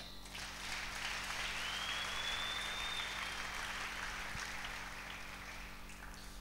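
Church congregation applauds Jesus in a steady, even wash of clapping, faint and somewhat distant over a low background hum, lasting throughout.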